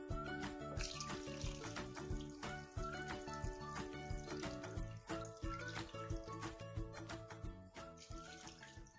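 Marinade is poured over salted mackerel in a run of liquid splashing and gurgling, close and fairly quiet, with irregular trickling pulses and no talk.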